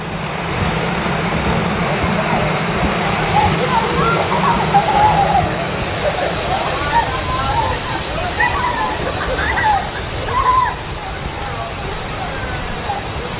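Pinlac Falls in Infanta, Quezon roars as a steady, loud, broadband rush of falling water that fills the whole scene, with people talking faintly under it.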